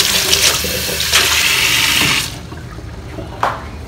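Tap water gushes loudly into a kitchen sink while utensils are rinsed, the stream cutting off partway and followed by a brief splash.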